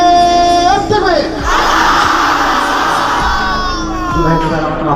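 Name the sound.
crowd shouting takbir (Allahu Akbar) in response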